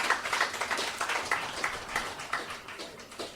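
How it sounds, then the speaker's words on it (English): Applause from an audience at a poetry open mic night in Perth. Moderately loud scattered clapping carries on steadily with irregular sharp claps, and no one speaks. "Give her more applause"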